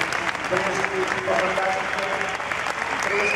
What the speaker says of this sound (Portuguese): Uma salva de palmas para este vídeo.